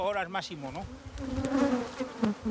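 Honeybees buzzing loudly near beehives during a honey harvest, their close, wavering whine rising and falling in overlapping drones while people talk nearby.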